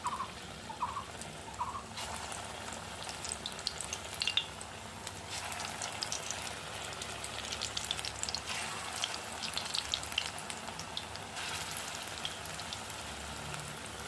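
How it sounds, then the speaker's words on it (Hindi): Taro leaf pakoras deep frying in hot oil, a steady soft crackle and hiss of bubbling that runs evenly throughout, fairly quiet and with no voices. "देखिए, इसको डीप फ्राई ही करना है"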